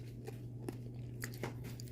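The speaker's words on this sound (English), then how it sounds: "It's crunchy. It's almost like a toffee because of the crunch in there." Peppermint toffee-like candy being chewed close up, giving a few sharp, separate crunches spaced irregularly over a low, quiet hum.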